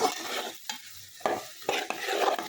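Fish curry masala sautéing in a pan, a spoon stirring and scraping in repeated strokes over a steady close sizzle of frying spices and oil.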